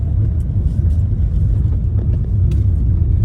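Vehicles crawl in a queue on the Kohima–Imphal highway near a landslide, a loud, steady low engine rumble with faint clatter close by.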